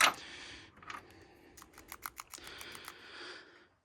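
A few quick, light clicks and rattles of a PCV valve from a 2013 Honda CR-V shaken close by, in short irregular bursts before fading to silence.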